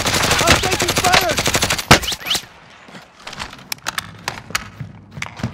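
Rapid automatic gunfire in Call of Duty: Warzone, a dense loud stream of shots for about two seconds, then scattered single shots and thuds in quieter surroundings.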